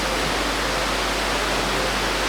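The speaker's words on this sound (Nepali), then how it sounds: "त्यो पानीको साउन्डहरूले गर्दाखेरि चाहिँ आनन्द आएको छ" Steady broadband rush of flowing water in a village setting, continuous and fairly loud throughout, with no voices over it.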